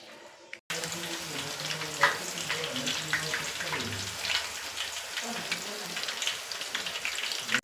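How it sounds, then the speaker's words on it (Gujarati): Raw banana wafer slices frying in oil produce a dense, continuous sizzle with scattered sharp crackles and pops, close and steady for several seconds after a brief quieter start. "તો જો તળાતા છે ને કંઈક આવી થાય છે વ્હાઈટ વ્હાઈટ, હજી થોડીક આપણે તળાવા દેવાની છે"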